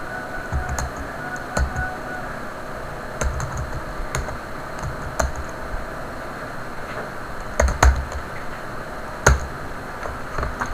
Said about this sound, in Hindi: जैसे कि मैं आपको टाइप करके दिखाता हूँ मंगल रेमिंगटन गेल कीबोर्ड में